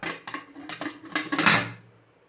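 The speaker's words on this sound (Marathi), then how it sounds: "आता टोमॅटो मऊ होईपर्यंत आपल्याला इथे झाकण लावून घ्यायचं आहे" A metal lid is set onto a cooking pot of tomatoes for dal khichdi on the stove, making a series of close, bright clinks and clatters that settle and fade to quiet.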